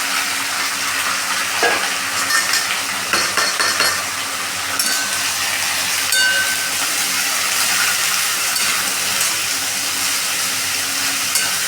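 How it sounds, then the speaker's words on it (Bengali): Sliced snake gourd fries in a wok with a loud, constant hissing sizzle that lasts the whole time. Occasional stirring clinks and scrapes rise above it, and no one speaks. "এবার আমরা চিচিঙ্গেগুলোকে ছেড়ে দিচ্ছি কড়াইতে"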